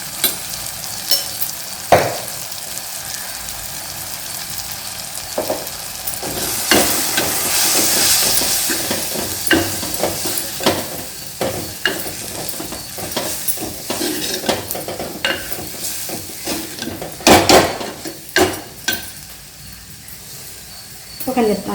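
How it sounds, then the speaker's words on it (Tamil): Four spoons of chili powder and half a spoon of turmeric fry in hot oil for manathakkali kuzhambu, making a hissing sizzle with repeated scraping stir strokes, while a voice talks intermittently. "மிளகாய்த்தூள் வந்து 4 ஸ்பூன் போடுறேன்."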